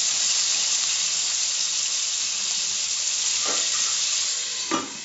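Crabs frying in a pan for a spicy tomato crab dish, a dense steady sizzle up close with a couple of scraping stirs near the end, no one speaking.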